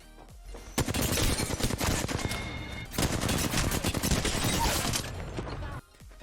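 Sustained automatic weapon fire in the Apex Legends shooter game on Nintendo Switch, rapid loud bursts running almost without pause for several seconds before cutting off abruptly.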